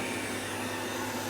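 A robot vacuum cleaner runs indoors, giving a steady, close, broadband whirring hiss with no breaks and no voices.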